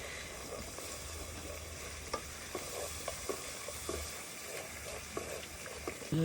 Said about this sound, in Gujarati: દાળ નાખી દઈએ અમે.